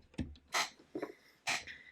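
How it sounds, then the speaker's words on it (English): A squeaky chair creaks in a few separate, brief scraping bursts spaced irregularly, close by and fairly loud in an otherwise quiet room. "Sorry for the noise. My chair is like so squeaky."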